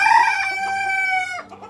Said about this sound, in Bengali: 3টা মুরগি বাইরে, ওই এখানে গ্রিড আছে, ওই গ্রিডগুলো খাইতেছে।